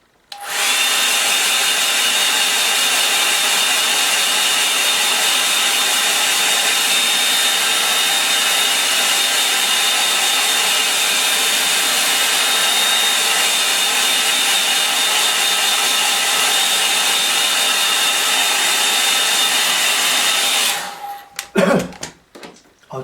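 A hair dryer blows steadily and loudly for about twenty seconds, drying a freshly painted rocky landscape, with a constant high whine over the rushing air before it cuts off abruptly and a few handling knocks follow.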